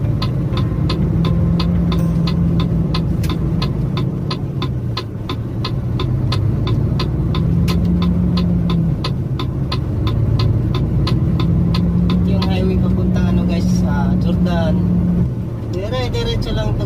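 A truck cruises along a highway in Saudi Arabia with a steady, loud engine hum and a throbbing drone that rises and falls in pitch, while someone talks over it throughout.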